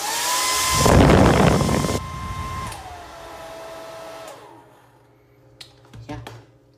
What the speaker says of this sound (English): It's a Conair 1875 again.